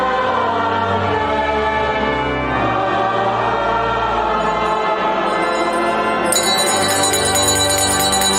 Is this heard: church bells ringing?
yes